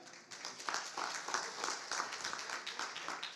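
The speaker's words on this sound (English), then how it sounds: "We ought to go in and clap for that right now." A community meeting audience claps together in a soft, continuous patter, faint and somewhat distant, for a few seconds.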